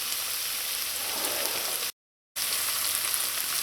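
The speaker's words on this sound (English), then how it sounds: "Let this saute for about a minute." Split peas and a chicken cube sauteing in a pot give a steady close sizzle and crackle, briefly cut by a short silent gap before continuing, with no talk.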